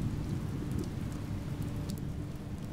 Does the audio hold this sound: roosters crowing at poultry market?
no